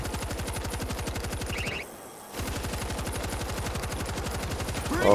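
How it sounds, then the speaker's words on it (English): Rapid automatic turret gunfire in the zombie shooter WWZ: Aftermath, loud sustained bursts of rhythmic shots with a brief pause partway through. "I'm on this turret then."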